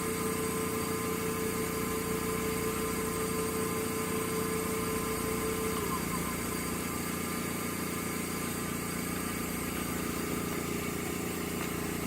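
A Laurell WS 400B spin coater, rated to 6,000 RPM, spins with a steady motor whine and hum, constant and unbroken, fairly loud and close with no talking.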